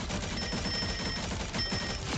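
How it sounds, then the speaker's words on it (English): Continuous video game gunfire during a live stream, dense rapid bursts of shots filling the whole stretch, loud and steady with no pauses. "the gunfire is because of these people"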